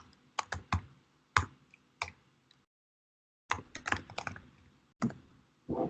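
Fingers type on a computer keyboard while writing a Python script, with bursts of crisp, close key clicks separated by short pauses and a silent gap in the middle.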